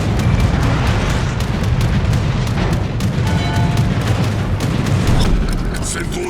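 Dense naval-battle din from World of Warships, torpedo explosions rumbling amid a continuous wall of loud booms and gunfire, with a voice talking over the chaos throughout.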